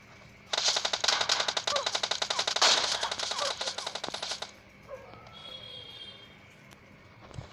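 Rapid automatic gunfire rings out in a PUBG Mobile Lite match, a dense burst lasting about four seconds that cuts off abruptly, followed by quieter game ambience and a faint whistling tone.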